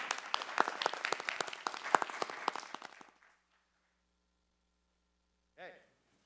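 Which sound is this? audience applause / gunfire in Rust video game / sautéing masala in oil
audience applause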